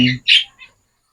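A Gouldian finch, likely one close to laying eggs, gives a few short, clear calls close by: a brief opening note, then a louder bright chirp and a fainter final peep, all within about a second.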